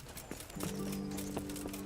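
Rhythmic horse hoof clip-clops on a hard surface in a video game, Kingdom Come: Deliverance, several quick steps, while a steady low musical tone plays underneath.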